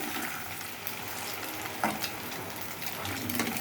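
Eggs seasoned with salt and turmeric fry in a pan, giving a soft, steady close sizzle throughout with a few faint clicks and no talking.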